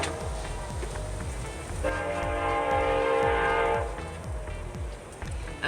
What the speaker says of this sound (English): I hear that train rolling down the tracks.